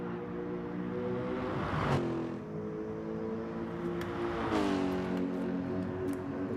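A race car at Koto Driving Park in an SSBB Pro-Am race takes a series of curves, its engine droning steadily with two rising and falling pitch sweeps as it shifts through the bends, loud and continuous.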